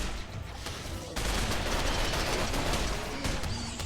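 Colonists firing guns in RimWorld, a dense, rapid crackle of gunshots in a steady stream of overlapping loud bursts with no pauses.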